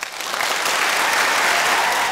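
Onlookers applaud at the swearing-in of Oregon's governor, a short burst of loud, dense clapping that builds quickly and stays steady.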